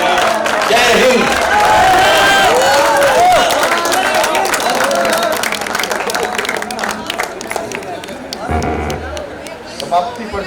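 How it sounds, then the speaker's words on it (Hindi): An audience applauds after a patriotic Hindi poem recital at a college event in Delhi, loud sustained clapping and crowd noise with voices mixed in, thinning out toward the end. "समाप्ति पर जो आपकी तालियां बजी हैं"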